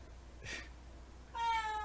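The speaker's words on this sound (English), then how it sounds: "I don't know what this cat is doing. Just freaking out." A cat meowing nearby while freaking out, a short faint sniff-like noise followed by one clear, drawn-out meow.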